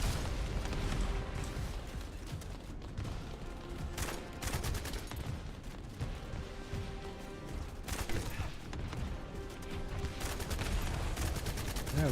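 Dense, continuous gunfire and booming weapon blasts fill a hard-mode boss fight in The First Descendant, shots overlapping in a steady barrage with no clear breaks, loud and close throughout.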